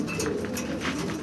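Pigeons kept in a pet-bird shop coo softly in a short, close burst with a low, throaty warble and no talk.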